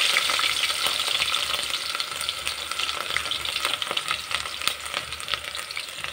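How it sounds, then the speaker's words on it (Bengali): Onions fry in hot oil with a loud, dense, continuous sizzle and crackle. Faint stirring scrapes sound now and then. "যে এখন তেল গরম হয়ে গেছে, আমি পেঁয়াজগুলো দিয়ে দিচ্ছি।"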